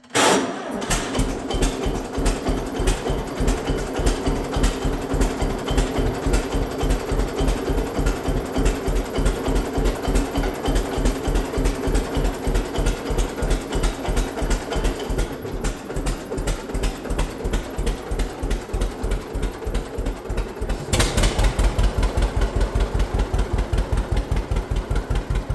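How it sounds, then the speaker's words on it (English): An old vehicle engine runs at a steady idle with a rapid, even chugging pulse throughout, close and loud, with a brief surge near the end. "See if she'll fire back up, and we'll take her for a test drive."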